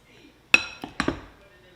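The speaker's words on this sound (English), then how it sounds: "Just stir it up the best I can." Pasta salad is stirred in a bowl with a few sharp clinks of utensil against the dish, three or four separate knocks close by, with quiet pauses between.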